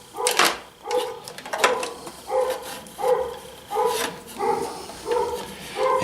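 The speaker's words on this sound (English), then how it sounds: "those are my dogs that I'm babysitting" Several dogs bark in a steady series of sharp, evenly spaced woofs, moderately close, during a fiber laser repair in a workshop.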